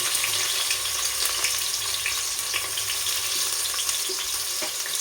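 Bay leaf, cloves, spices and onion fry in hot oil for a veg pulao, giving a loud, continuous, close sizzle with faint stirring.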